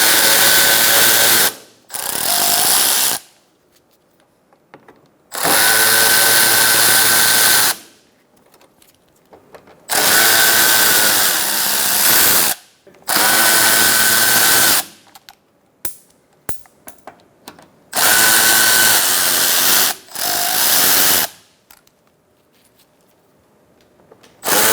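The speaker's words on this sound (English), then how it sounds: "remove your Torx bit screws." A power tool fitted with a T30 Torx socket spins out screws at the front of a 2012-2018 Ford Focus, loud close whirring bursts of one to three seconds each, about six in a row separated by short quiet gaps.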